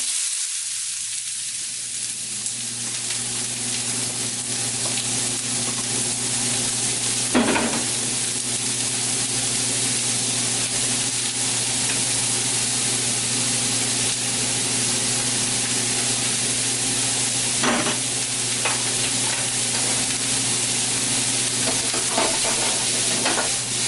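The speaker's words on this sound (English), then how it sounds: "I'm going to saute the onions and garlic together." Onions and garlic sizzle in olive oil in a frying pan, a steady close hiss and crackle with occasional stirring scrapes throughout, without talking.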